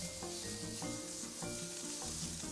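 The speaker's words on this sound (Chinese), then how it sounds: "你就是给它煎到差不多，把它翻面哈" Shrimp frying in hot oil in a pan give off a steady, quiet sizzle, with a few light clinks and knocks of a utensil turning them at intervals.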